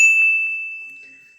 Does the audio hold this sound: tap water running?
no